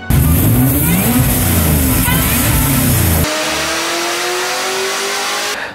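A supercharged 1963 Studebaker Lark with a swapped Gen 5 L83 5.3-liter V8 and 180-degree headers revs hard, rising and falling in loud close bursts, then settles into a steadier high drone for the last few seconds.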